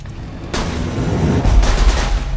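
Rapid-firing weapon in the video game Borderlands 2, a dense burst of shots and booms that kicks in after a quiet start and grows louder and heavier toward the end, with no talking.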